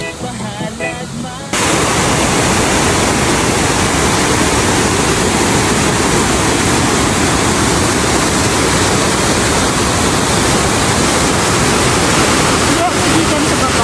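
Matigol Falls roars with rushing water, a loud, dense and continuous close wash that swamps everything after a brief quieter opening where voices are heard.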